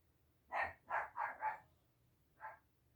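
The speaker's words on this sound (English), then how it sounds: "My dog is yapping." Small dog yapping indoors: four quick barks in a row, a pause, then one more, faint and somewhat distant with no talking.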